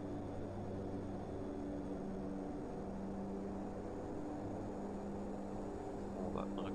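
Simulated in-flight cabin drone of a DHC-6 Twin Otter twin-turboprop in Prepar3D, a steady broadband propeller and engine hum at constant level throughout.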